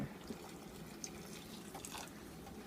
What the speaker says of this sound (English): So pour some more water.